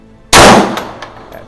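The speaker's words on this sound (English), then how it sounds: "So I'll shoot a couple rounds" A single sharp, loud report from a CZ vz. 38 .380 ACP pistol, followed by a short decaying echo.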